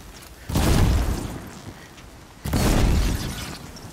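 Two deep booming explosions in the video game Horizon Zero Dawn, about two seconds apart, each hitting hard and rumbling off slowly, with no voices.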